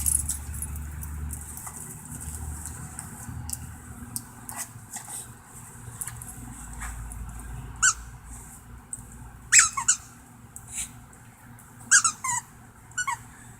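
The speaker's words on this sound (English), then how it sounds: "And it squeaks and everything." A dog plays with a squeaky toy, sharp squeaks bursting in irregular clusters over a low background rumble, with rattling and jangling between, close and fairly loud.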